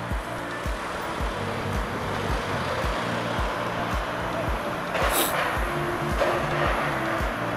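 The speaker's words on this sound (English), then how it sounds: "Here's the main road that's going into Sliema." Road traffic on the main road into Sliema along the Gzira seafront in Malta, a continuous broadband rumble of passing vehicles with low engine throb and one louder pass, moderately near.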